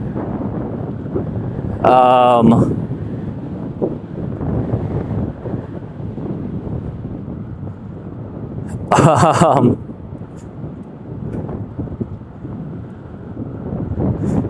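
Strong wind buffets the microphone throughout a live outdoor ride, a steady low rumble with two louder bursts of noise standing out; no words are spoken.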